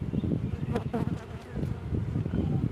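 Honeybees buzz steadily in an opened hive during a queen check, a continuous close drone with some faint handling noise over it.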